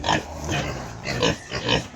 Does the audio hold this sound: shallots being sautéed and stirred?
no